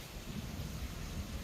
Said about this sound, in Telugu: పొద్దునుంచి వర్షం.